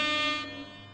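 A short electronic car horn in a racing game blares for about half a second, then fades quickly.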